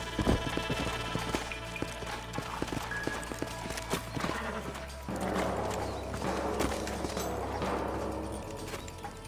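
Horse hooves clip-clopping in Red Dead Redemption, steady rhythmic hoof steps on the ground beneath ambient game sound and music, with voices talking.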